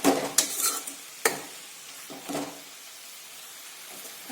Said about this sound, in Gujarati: પાલકને આપણે 2 થી 3 મિનિટ માટે આ રીતે જ ચડવા દઈશું અને વચ્ચે વચ્ચે હલાવતા રહીશું